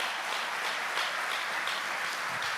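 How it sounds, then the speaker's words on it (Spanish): A church congregation applauds during a sermon. The clapping is steady and fairly quiet, a continuous wash of many hands. "Dele fuerte el aplauso al Señor."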